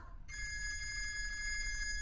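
A telephone rings steadily with a bright, sustained electronic tone that starts after a brief moment and continues without pause over a low background rumble.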